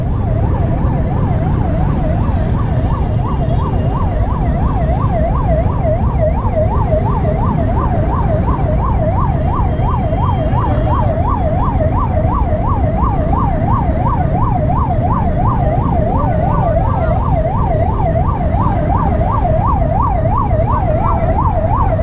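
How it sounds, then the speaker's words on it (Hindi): A steady wailing ambulance siren cycles rapidly up and down without pause, over a heavy low rumble of idling engines in dense traffic. "पीछे एक एम्बुलेंस भी आ रही है"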